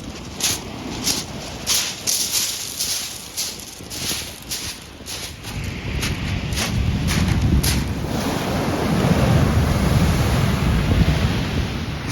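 Strong coastal wind buffets the microphone in loud rushing gusts while ocean surf roars and crashes steadily underneath, swelling louder toward the end.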